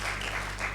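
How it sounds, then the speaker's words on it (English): An audience at a conference session claps for a facilitator in a brief burst of applause, a dense, even patter of many hands. "Can you please clap for our facilitator for a job well done?"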